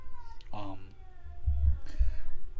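An agitated cat yowls a couple of times, insistent and fairly close, while a person talks over it and low thumps sound in the background.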